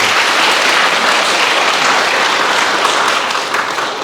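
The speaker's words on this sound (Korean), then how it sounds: "꼭 합격하시라고 큰 박수 부탁드립니다." Loud, thick applause from a large audience at a live Buddhist question-and-answer session, a dense, even roar of many hands clapping without pause for the whole stretch.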